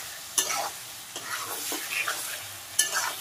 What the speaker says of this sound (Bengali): চিনি দিয়ে হালকা আঁচে আমি নাড়তে থাকবো।